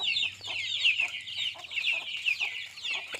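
Tamil Nadu desi chickens and young chicks on a small backyard poultry farm cluck and peep in a steady, busy chorus, fairly faint and without talk.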